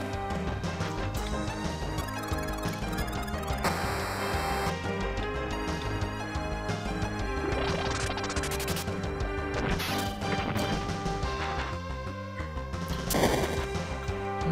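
Fireball attacks in the strategy game Der Langrisser, a dense run of retro game crashes, whooshes and blasts over looping background music, loud and continuous without talk.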